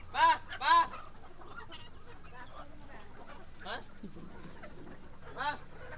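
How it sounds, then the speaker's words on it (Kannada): Country chickens kept as a free-range flock cluck in a few loud close bursts, with quieter clucks later over steady outdoor background noise. "ಕೋಳಿ ಮರಿಗಳನ್ನು ಸಾಕ್ತಿದ್ದಾರೆ, ಬನ್ನಿ ನೋಡೋಣ"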